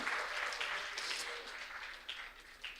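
An audience at a student orientation event applauds two speakers, a steady wash of clapping from many hands that stays full and even, with a few louder claps near the end.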